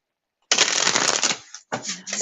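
A deck of tarot cards is shuffled close up, a dense rapid riffling burst, a brief pause, then a second shorter run of flicking cards.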